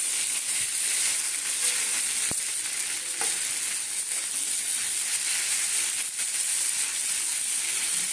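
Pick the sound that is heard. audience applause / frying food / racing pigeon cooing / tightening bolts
frying food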